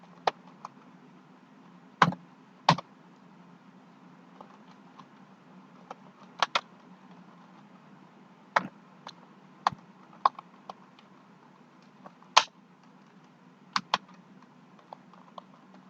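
Typing on a computer keyboard while writing a line of Python code, sparse and irregular key clicks, some in quick pairs, close and fairly crisp over a low steady hum with no talk.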